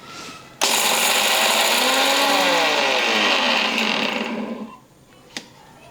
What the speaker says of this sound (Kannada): ಇದು ಪುಟಾಣಿನ ಮಿಕ್ಸಿಗೆ ಹಾಕಿ ನುಣ್ಣಗೆ ಪೌಡ್ರ್ ಮಾಡ್ಕೋತೀನಿ ರೀ